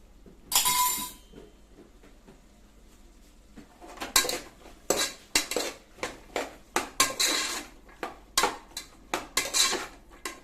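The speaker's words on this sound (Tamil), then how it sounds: "அதே இந்த எண்ணெயிலே நல்லா வதக்கணும்." Wheat rava khichdi ingredients stirred in oil in a metal pan with mint and coriander, giving a brisk series of close utensil scrapes and clinks that start after a brief clatter and quiet stretch, with no talk.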